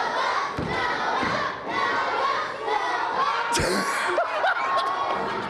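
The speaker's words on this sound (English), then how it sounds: "Listen to the crowd." Crowd at a high school boys basketball state game, loud cheering and shouting from a packed gym with thumps and squeaks, a continuous roar of many voices.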